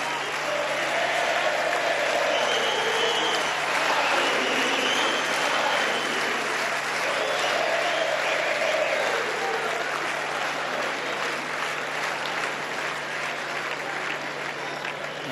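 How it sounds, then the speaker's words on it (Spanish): Sustained crowd applause for Nalbandian at the ATP Buenos Aires tennis tournament, a dense, even wash of clapping that holds at a moderate, slightly distant level, with faint voices and a steady low hum beneath. "Escuchamos el aplauso."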